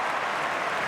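Crowd applause at an Australian football match between Essendon and Hawthorn in 2004, rising after a mark is taken; a steady, dense wash of clapping from a large stadium crowd, fairly loud and continuous with no talk.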